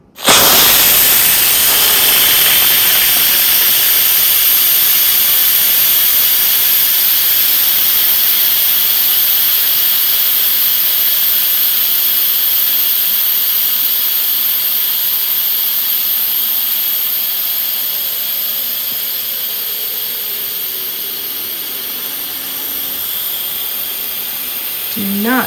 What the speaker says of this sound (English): this is where the steam would release